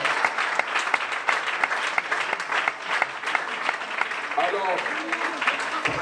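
Church congregation applauding loudly and steadily throughout, dense continuous clapping with a voice heard over it near the end.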